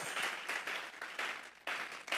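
Church congregation clapping together in rhythmic bursts as an offering of praise, with several dense waves of claps swelling and pausing over a couple of seconds.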